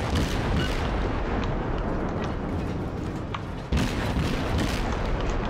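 Continuous naval gunfire barrage in the World of Warships video game, a dense, loud, sustained rumble of overlapping booms with a sharp renewed burst partway through.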